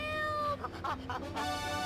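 A cat meows in a radio ad within the video game GTA 3, giving a few short, fairly quiet meows over a background of music.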